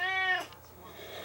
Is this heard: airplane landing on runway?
no